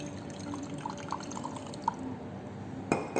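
Water is added to a paracetamol syrup mixture being stirred, with soft drips and light liquid splashes, a few clinks of glass, and a brighter splash near the end, close and fairly quiet, with no talking.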